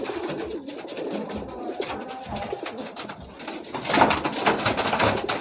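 Madrasi pigeons coo in a close, dense chorus of overlapping calls at a home loft, growing louder toward the end.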